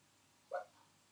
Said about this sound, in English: My puppy's having nightmares, hold on.